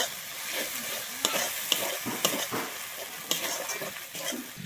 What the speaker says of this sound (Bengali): আমি জিরে আর শুকনো লঙ্কাটা দিয়ে কিন্তু খুব ভালোভাবে এখানে কষিয়ে নেব।